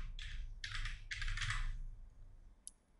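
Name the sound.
typing on a computer keyboard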